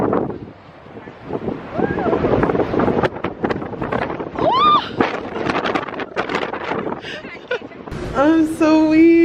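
Strong, gusty wind buffets the microphone at a cold Vancouver waterfront, a loud continuous rumble with voices and laughter breaking through on and off.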